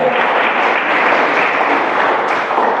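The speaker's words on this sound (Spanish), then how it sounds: "¿Puede darle un aplauso al Señor?" Loud, sustained applause from a large church congregation during a sermon, a dense wash of clapping that holds steady throughout.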